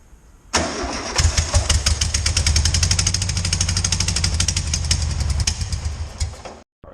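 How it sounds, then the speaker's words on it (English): A classic VW Beetle engine with its body removed cranks with fast rhythmic chugging, stumbles and then roars loud and close for several seconds before cutting off abruptly. "if this is wired up right, this should start"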